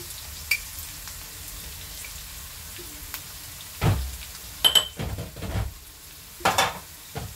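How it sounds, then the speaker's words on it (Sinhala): Chili powder fries in hot oil for a chicken gizzard and liver curry, a soft sizzle broken by a few sharp crackles and stirring scrapes near the end, with no talking. "මේ කුළු බඩට මිරිස් කුඩු ටික පොඩ්ඩක් තෙලේ බැද ගන්න."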